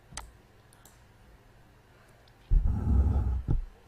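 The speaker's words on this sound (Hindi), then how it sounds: "मैं क्लिक करता हूँ साइन इन पे" A computer mouse click on a sign-in button, a single sharp tick near the start over quiet background. It is followed by a louder burst of low rumbling noise.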